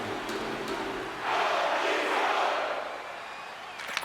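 Arena crowd in the NHL 26 hockey video game swells into a loud roaring cheer after a steady murmur, then eases back down, with faint arena effects at the end.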